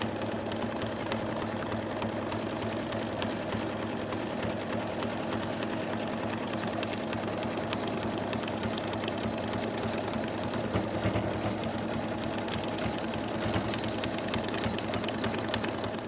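An embroidery machine stitches an in-the-hoop Santa design, a continuous loud, close, rapid mechanical whirring with fast needle ticking that holds steady throughout, with no voices.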